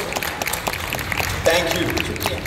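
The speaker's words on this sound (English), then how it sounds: "That deserves a bigger round of applause." Audience applause at a Netflix Dabba Cartel series event after a line is performed live: moderate clapping from a crowd that goes on under scattered voices.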